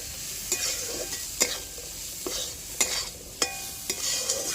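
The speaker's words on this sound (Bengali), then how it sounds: "হলুদ গুঁড়ো, জিরে গুঁড়ো দিয়ে আবার একটু ভেজে নেব।" Vegetables frying in a pan with turmeric and cumin powder give off a quiet, steady sizzle, broken by a few sharp scrapes of a spatula as they are stirred, with no voices.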